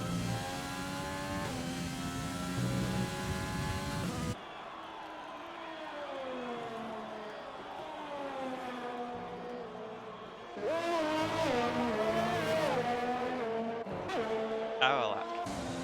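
F1 cars run outlaps during qualifying at the Austria circuit in a racing game, their engines whining and shifting through rising and falling revs, with some passes louder and closer and commentators talking over the noise.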